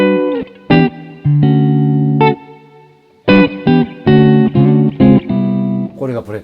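Electric guitar played through the plate reverb setting of an amp-style pedal, with chords and single notes ringing out in bursts and pauses, each decaying into a long, smooth reverberant tail.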